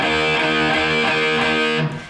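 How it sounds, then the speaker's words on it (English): Distorted electric guitar power chord on the fifth and fourth strings, picked eight times in an even, sustained, buzzy run, loud and close with no voices, from a guitar lesson. "So with the plectrum, you're going to pluck the 5th and 4th string"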